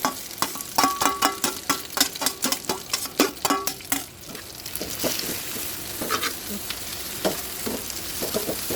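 Eggplant frying in hot oil in a pan, a crisp continuous sizzle with rapid rhythmic stirring scrapes and pops, loudest in the first four seconds and settling into a steady, close fry afterward.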